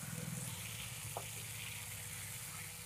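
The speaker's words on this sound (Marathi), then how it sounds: "बटाटे लवकर शिजतात बटरमध्ये" Potato pieces cook in butter inside a covered pan, giving a faint, steady sizzle and soft bubbling with one brief clink partway through.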